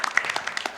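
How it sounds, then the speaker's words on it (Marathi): An audience at an inter-school high school quiz competition applauds, a brisk run of scattered, fairly close claps rising and falling in a steady patter. "आपण टाळ्या वाजवून त्यांचं अभिनंदन करूया"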